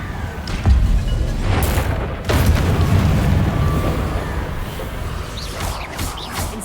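A fire spell cast in Hogwarts Legacy: deep booming whooshes of flame roar up in several bursts, loud and rumbling, with crackling swells fading between casts amid game ambience.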